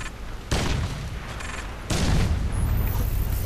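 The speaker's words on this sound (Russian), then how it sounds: "Фига там ядерная бомба в виде крайзиса падает" Two heavy booming blasts from a nuclear bomb in Crysis 2 multiplayer, each a sudden deep rumbling burst that lingers, the second louder and longer than the first.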